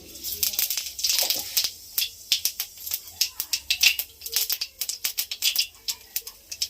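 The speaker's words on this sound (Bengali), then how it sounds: "তেল গরম হয়ে গেছে, দিচ্ছি কটা জিরে," Cumin seeds spluttering and popping in hot oil after frying fish, a dense run of sharp crackles and pops close up, irregular and busy throughout with no voices.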